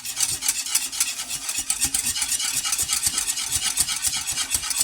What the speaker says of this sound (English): I want to go ahead and start whisking my heavy cream